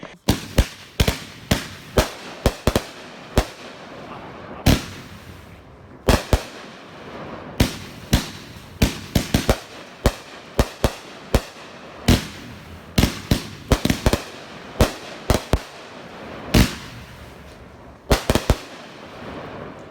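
A 25-shot consumer fireworks cake fires colored mines and glitter breaks, giving a quick run of sharp, loud thumps and pops, sometimes in tight doubles and triples, with faint crackle in between and no talking.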